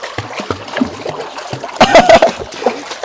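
Someone swimming in a small home swimming pool sends up a short, close burst of splashing water midway through, with voices and other brief sounds around it.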